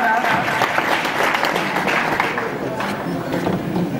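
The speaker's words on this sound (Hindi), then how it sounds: "जोरदार तालियों के साथ।" An audience at an awards event claps loudly for a third-place winner, a dense, steady patter of many hands with some background chatter mixed in throughout.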